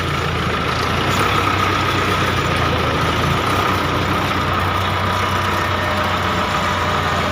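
A loud, steady heavy engine drones close up, a tractor pulling a trailer up a steep slope under load with constant low rumbling and no speech.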